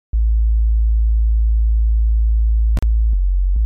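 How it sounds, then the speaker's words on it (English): A clean sub bass tone from Ableton's Operator synth holds steady and loud at the very bottom, broken by a few short clicks and note changes near the end. "Okay, so it's just a very clean sub."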